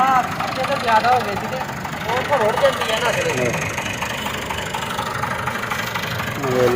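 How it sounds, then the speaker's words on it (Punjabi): A tractor engine drones steadily at mid pitch, with rattling and grinding from the sugarcane juice crusher it drives running alongside it. "ਆ ਦੇਖ ਲਓ ਰੋਹ ਦਾ ਰਸ ਨਿਕਲ ਰਿਹਾ ਵਾ ਟਰੈਕਟਰ ਦੇ ਨਾਲ"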